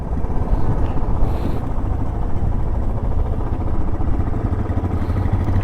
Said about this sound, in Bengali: হিমালয়ান চালাচ্ছে 411 সিসি।